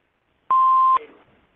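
An answering machine gives a single loud, clean electronic beep lasting about half a second, followed by a short fading echo.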